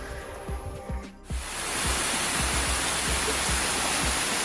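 Waterfall beside a New Zealand hiking trail, a steady loud broadband roar of falling water that swells in after a quieter opening second and then holds constant and close, with no voices.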